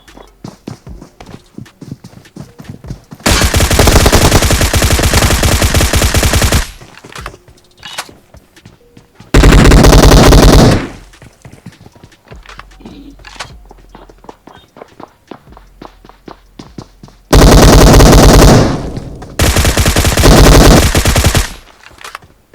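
Bursts of rapid automatic gunfire in a shooter video game, loud sustained volleys of a few seconds each separated by quieter stretches of footsteps and movement, with no talking.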